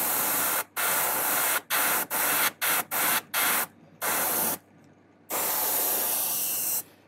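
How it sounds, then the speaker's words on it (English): Airbrush spraying purple paint onto a handmade fishing lure, a steady hissing spray in repeated bursts of varying length, from short puffs to longer passes, with brief silent gaps between them. "You had a lot of distance between the airbrush and the lure, just so you can get a light film on there."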